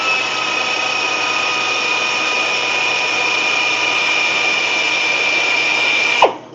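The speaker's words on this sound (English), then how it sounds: "we just got to fine grit here on a drill, and we run it basically the opposite direction" A power drill whines at a steady high pitch as a fine-grit abrasive pad grinds a crosshatch into a metal brake rotor, then winds down abruptly near the end.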